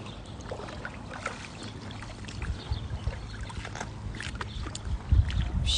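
Water splashes and sloshes close by as someone wades into warm water outdoors, the irregular swishes growing louder toward the end over a soft windy background.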